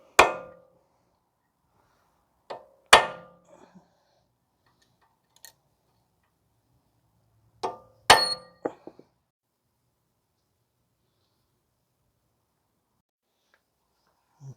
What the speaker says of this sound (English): So now we are going to stake the axle nut